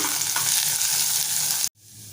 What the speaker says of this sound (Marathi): आपण भिजवलेली मसूर डाळ घालूया परतवून घेऊया